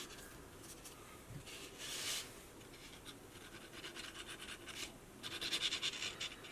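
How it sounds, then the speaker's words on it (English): A cardstock cross box Easter card is folded by hand, giving faint, close scratching and rubbing of paper in short strokes, with a louder brush near the end and no talk. "Then last thing we'll do is to fold this in."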